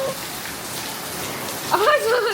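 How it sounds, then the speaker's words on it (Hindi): Heavy rain pours down steadily as a loud, dense hiss over a home that is flooding, and a voice rises over the downpour near the end. "ये देखिए कितनी तेज बारिश है, पानी भर गया पूरे में।"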